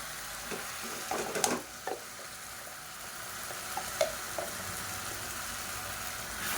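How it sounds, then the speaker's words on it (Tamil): Chicken and potato kurma with coconut paste being sautéed in a pan, with a steady low sizzle under irregular scraping stirs and a few sharp utensil clinks against the pan, close by. "சேர்த்துட்டு நல்லா வதக்கி விட்டுக்கலாம்"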